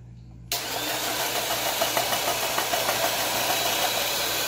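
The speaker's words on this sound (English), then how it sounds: "Let's take a look at the noise from the machine for the celery here." Presto Salad Shooter electric slicer cutting celery in a kitchen, a steady close motor whine that kicks on abruptly and runs continuously with faint rhythmic chopping pulses.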